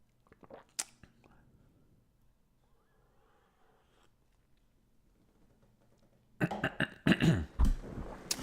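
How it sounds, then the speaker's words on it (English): A tired person with a lingering cough coughs and clears their throat briefly near the start, then a burst of louder coughing comes close up near the end, with quiet pauses between. "I'm tired and still have a cough."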